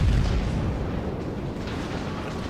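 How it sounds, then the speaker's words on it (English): Rear guns of a battleship firing in World of Warships, a heavy booming blast that rolls into a sustained low rumble and dense crackle and stays loud throughout, with no speech. "I quickly swap over to my rear guns to give him some love."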